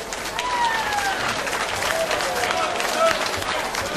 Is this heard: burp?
no